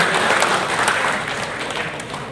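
Audience applause at a Kosgoro 1957 Jakarta gathering, a dense, steady wash of many hands clapping together, loud and continuous, with no voices over it.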